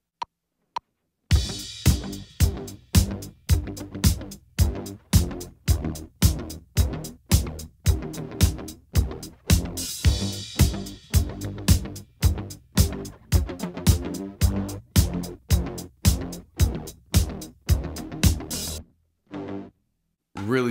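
A punchy Line 6 Helix synth bass preset pulses in a steady, repeating groove alongside tight drum hits, loud and continuous before stopping abruptly near the end.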